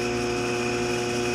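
A ShopSmith 10ER woodworking machine running at slow speed, around 300 RPM, gives a steady, continuous mechanical drone with a constant hum and faint rhythmic flutter, close and unbroken throughout.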